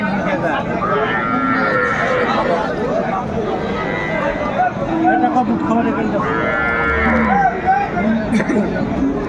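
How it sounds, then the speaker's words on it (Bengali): Cows and calves at the Aftabganj cattle market in Bangladesh low several times, some nearby and some farther off, under a steady crowd murmur and close conversation. "গাভী বাছুরগুলো এখানে"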